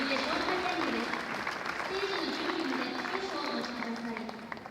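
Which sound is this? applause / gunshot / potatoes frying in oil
applause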